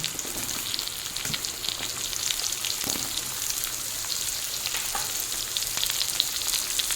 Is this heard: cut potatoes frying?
yes